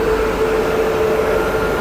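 Indian Railways locomotive 3741, hauling the Netaji Express, gives a steady loud droning hum with a constant tonal whine, unbroken and close, with no talk.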